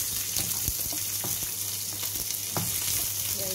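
Onion, green chili and ginger frying in a pan, a steady close sizzle with occasional stirring clicks and scrapes over constant hissing oil.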